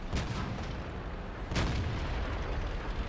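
Tank cannon fire in World of Tanks: two heavy booming shots about a second and a half apart, each with a rumbling tail over steady battlefield noise.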